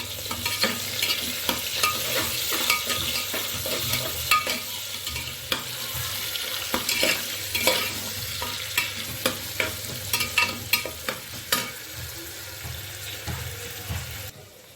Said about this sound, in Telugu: ఉల్లిపాయలు అయితే వేయించుకుంటున్నానండి బాగాన.